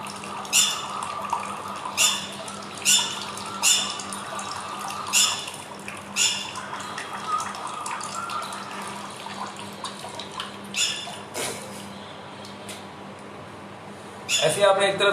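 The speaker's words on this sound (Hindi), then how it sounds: "आपने सिर्फ नलकी लगानी है और पानी अपने आप आएगा" Water trickling and splashing during a jal neti nasal rinse, poured through a neti pot spout into one nostril, a steady wet stream under a low hum, broken by intermittent louder gushes and splashes; no talk is heard.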